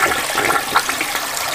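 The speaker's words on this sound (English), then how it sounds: "I'm flushing right now." A public toilet flushes in one continuous loud rush of water, close and with no talk over it; the bowl is clogged with dog food and spills onto the floor.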